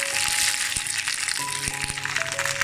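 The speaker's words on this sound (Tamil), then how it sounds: "ஸோ இது நல்லா பச்சை வாசம் போகிற மாதிரி நல்லா நம்ம வதக்கணும்." Ginger garlic paste sautéing in oil for chicken pickle, a steady bright sizzle and crackle with a few faint spoon scrapes and clinks, close and continuous with no talking.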